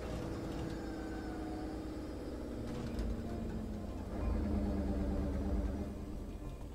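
Loud modified truck engine idling in the video game State of Decay, a continuous low rumbling drone with a swell in loudness partway through.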